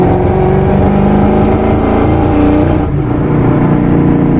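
A boosted Ford Mustang GT V8 with major running issues revs hard, a loud, continuous engine roar close to the listener that holds steady and drops slightly in tone partway through.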